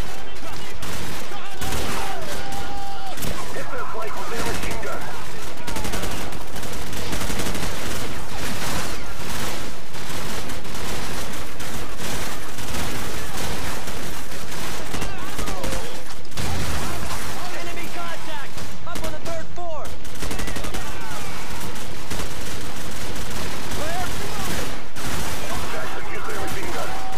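Machine gun fire rattles through a Call of Duty 4: Modern Warfare firefight in loud, sustained bursts with scattered explosions. Brief pauses break the shooting, and voices come through beneath the gunfire.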